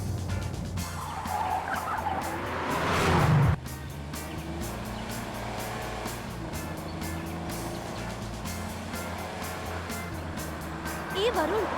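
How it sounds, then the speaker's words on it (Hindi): A car driven fast with its engine roaring and tires briefly screeching, building to a loud rush before cutting off, then a steady engine drone under excited talk, with another short squeal at the end. "ए वरुण, गाड़ी तो इतनी तेज क्यों चला रहा है?"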